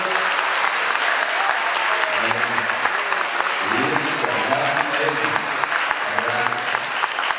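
A church congregation at a live evangelical congress breaks into dense, sustained applause filling the room, while someone speaks over the clapping.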